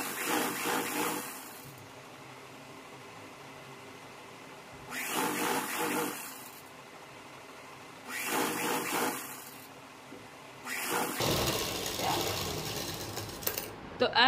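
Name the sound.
sewing machine stitching pant hem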